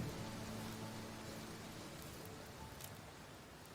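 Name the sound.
rain easing off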